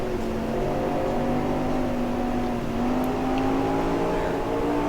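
Stock car engines droning steadily in the NASCAR Racing 2003 game during a 1972 Grand National East race, a loud, continuous whining hum with rising pitch as the cars accelerate.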